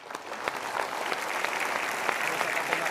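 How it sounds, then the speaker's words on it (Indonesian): An audience applauds steadily at a motivational talk show, a dense wash of many hands clapping at a moderate level that holds evenly for about three seconds with no voices on top. "kita berikan tepuk tangan untuk mereka"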